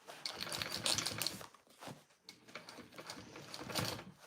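A sewing machine runs a short line of stitching along a zipper, with two bursts of fast close mechanical whirring split by a brief pause. No speech.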